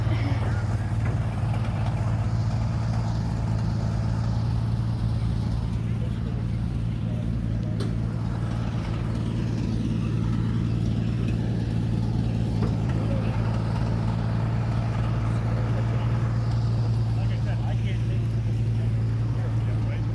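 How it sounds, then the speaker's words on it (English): Military trucks idling at a war reenactment, a steady low engine rumble running throughout while people talk over it nearby. "that's probably why they're getting some of these trucks fired up"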